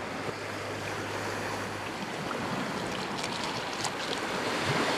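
Ocean waves wash steadily around the tall sailing ship James Craig at sea, a soft continuous broadband rush with wind noise and faint splashes, no voices.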